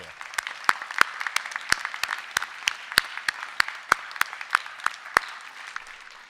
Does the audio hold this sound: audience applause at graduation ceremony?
yes